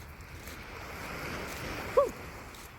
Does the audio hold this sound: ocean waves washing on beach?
yes